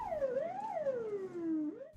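An ambulance siren wails in city traffic, a single close sweeping tone that falls, rises and falls again over about two seconds.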